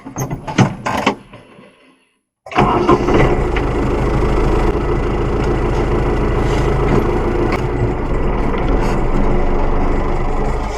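A Chinese mini tractor pulls tree stumps on a home garden plot. After brief handling clatter and a moment of silence, its engine runs loud and close in a steady, unbroken drone for the rest of the stretch.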